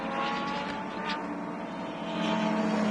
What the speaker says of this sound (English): So with a glorious sounding Judd V10, it's a great sound that engine makes.